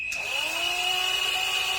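A power drill bores into the tube of a Dobsonian telescope, producing a steady, close, high-pitched whine that runs unbroken for nearly two seconds.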